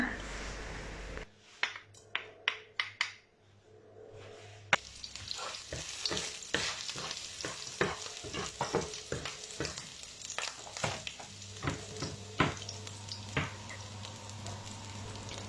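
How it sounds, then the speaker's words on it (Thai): Chili and garlic stir-fry in hot oil in a pan, with a steady sizzle, a few sharp taps at the start and then a run of repeated stirring scrapes and clatters, all close up with no voices. "ใส่น้ำมันลงในกระทะค่ะ ผัด พริกกับกระเทียมให้หอมเลยนะคะ"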